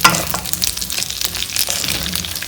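Cashews and chicken frying in a pan, a steady close sizzle with bursts of crackle as the pieces are tossed and stirred.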